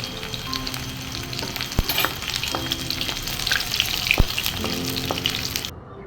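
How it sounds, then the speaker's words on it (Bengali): Soybean chunks fry in a little oil until reddish brown, a dense steady sizzle with bright pops, a couple of sharp utensil knocks and stirring scrapes, cutting off abruptly at the end. "ভালো করে লাল লাল করে ভেজে নিচ্ছি"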